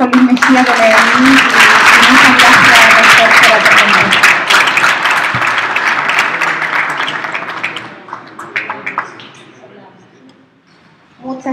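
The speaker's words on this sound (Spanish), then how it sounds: "le damos un aplauso al rector Juan Luis Mejía de Medellín" An audience applauds rector Juan Luis Mejía of Medellín at an innovation talk: loud, sustained clapping from a full room over music, tapering off to a few scattered claps near the end.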